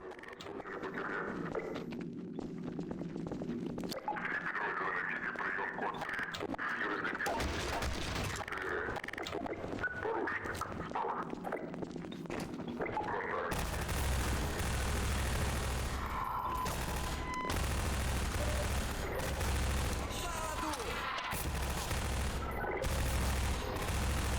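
Rapid weapon fire in the video game Half-Life 2: bursts of automatic shots crackle and boom repeatedly, then become a denser, louder barrage in the second half.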